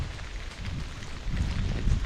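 Steady rain falls during a morning fishing trip, a dense continuous hiss with heavier low rumbling patter that swells louder in the second half, with no voices.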